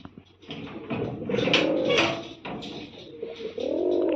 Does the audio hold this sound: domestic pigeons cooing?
yes